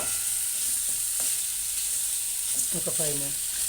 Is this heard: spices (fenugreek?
yes